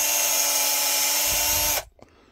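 An electric drill spinning a wire stripper whines at a steady high pitch nearby, then abruptly stops and falls silent apart from a faint click.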